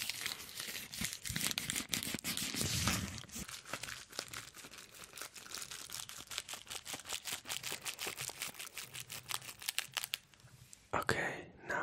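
Gray plastic AliExpress packaging bags are handled close up, with dense, crisp crinkling and tearing-like rustles in quick bursts, then quieter handling near the end.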